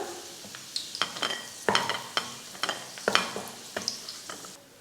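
Cashews and raisins fry in ghee while a spoon stirs them, giving repeated sharp scrapes and clinks over a faint, quiet sizzle with no voices.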